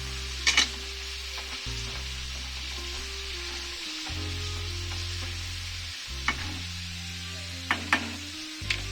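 Food sizzling in a pan on the stove, a steady close frying hiss with occasional clinks from stirring and a low hum underneath.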